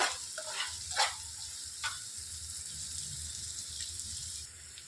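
Onions fry in a pan for gongura curry, a steady low sizzle running throughout with a few brief brighter clinks and stirring scrapes near the start, heard alone without talk.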